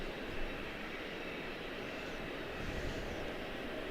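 A Hawker 800 business jet at Charlotte-Douglas International Airport gives off a steady, distant engine roar, a broad wash of noise that swells gently and holds throughout without speech.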